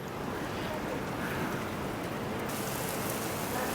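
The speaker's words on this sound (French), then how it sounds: "on va s'abriter vite fait dans le centre commercial en attendant que ça arrête de pleuvoir" Heavy rain pours steadily in Kuala Lumpur, a dense, continuous hiss that stays loud and even throughout with no voices.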